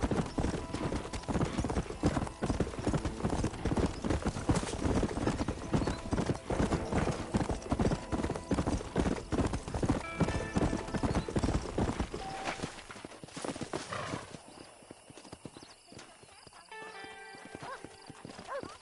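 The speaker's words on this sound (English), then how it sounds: "This steed looks right fetchy, I don't mind telling. Good luck, son. He's a wild one, and no mistake." Horse hooves clip-clop steadily and a horse whinnies in the Western video game Red Dead Redemption, loud and busy at first, then thinning out to sparse sounds near the end.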